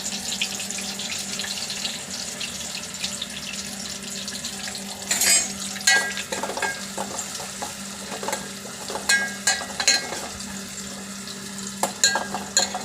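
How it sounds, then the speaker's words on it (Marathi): Curry leaves hitting hot oil in a pan while poha is being made, a steady sizzle with scattered crackles and spatters, some stirring clatter, and no talking. "तेलाचा कढीपत्ता टाकते"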